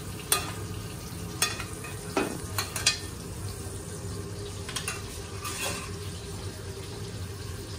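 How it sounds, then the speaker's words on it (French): Rack of pork basted with foaming butter in a pan, a steady crackling sizzle running throughout with a few brighter spattering bursts and clinks from the spoon. "on va l'arroser, on va le nourrir, notre carré, avec ce beurre mousseux qui chante"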